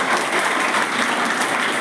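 A brief burst of audience clapping at a Mission IAS Amaravati event in Ranchi, Jharkhand: dense, loud and uniform, lasting just under two seconds without talk.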